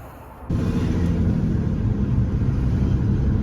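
A VW Golf R32 Turbo fitted with Golf R clutch packs drives past, its engine settling into a loud, steady low rumble after a sudden rise, heard up close with no talking.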